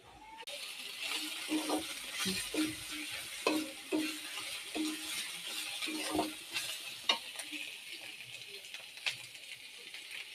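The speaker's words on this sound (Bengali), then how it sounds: "আমার পেঁয়াজটা কিছুক্ষণ নাড়াচাড়া করার পরে পেঁয়াজটা একটু লাল লাল হয়ে গেছে। এখন আমি বিভিন্ন প্রকার মশলা অ্যাড করব।" Onions and a mix of spices stirred while they fry in a pan, a soft steady sizzle broken by regular scraping and tapping strokes of a spoon, close and fairly quiet.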